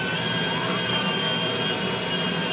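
A commercial airliner's jet engine in the video game GTA V roars loudly and steadily with a high whine, filling the scene with no voices.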